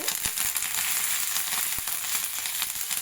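Mustard seeds, cumin and curry leaves crackle and sizzle steadily in hot oil in a pan for a North Karnataka-style greens curry, a dense close frying hiss with a few sharp pops and no talk.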